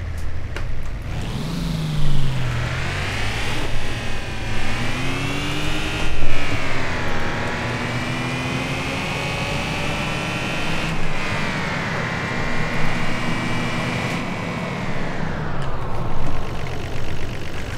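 A Nissan Stagea car engine in the driving game City Car Driving drones and revs continuously, its pitch sweeping up and down in long smooth rises and falls, loud and close with no talking.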